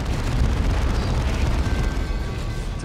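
A grenade explodes in the strategy game Warhammer 40000: Dawn of War II, giving a loud, sustained rumbling blast that roars on without a break for about three seconds.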